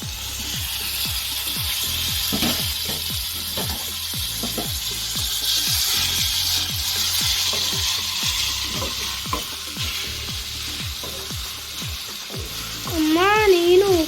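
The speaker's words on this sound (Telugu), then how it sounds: "ఇప్పుడు మనం టమాటా ముక్కలు వేసుకుందాం." Tomato pieces for a broad bean and tomato curry frying in a pan, a steady sizzle with quick, regular spatula scrapes, then a brief voice near the end.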